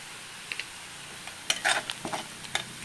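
Onions frying in a pan as crushed chilli goes in for an ivy gourd stir-fry, with a low sizzle and a few sharp scrapes and clatters of a spatula, close and without talking.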